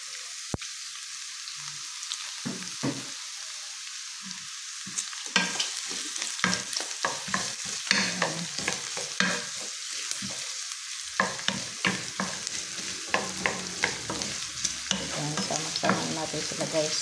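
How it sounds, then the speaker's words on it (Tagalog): Garlic and onion sauté in a pan for a pork pakbet, a steady oily sizzle broken by repeated scraping stir strokes that grow busier and more rhythmic partway through, close and fairly loud, with no voices. "Igisa na natin yung bawang at sibuyas."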